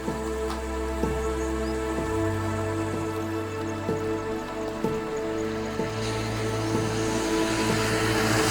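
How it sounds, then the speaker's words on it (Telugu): Heavy rain pours down during a morning NS200 motorcycle ride through Nallamala Forest as a dense, steady hiss with scattered drop impacts, while a low engine drone runs beneath it and no one speaks. "వర్షం అయితే స్టార్ట్ అయింది ఘోరంగా."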